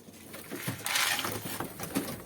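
Soft pigeon coos from birds inside a loft trap near the landing board, faint and close, a few low murmuring calls over quiet background.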